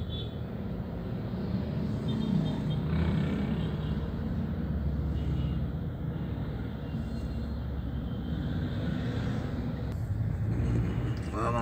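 Steady road traffic on Ortigas Avenue during the 7:42 AM rush, a continuous low rumble of cars and engines close by, with faint voices mixed into the din.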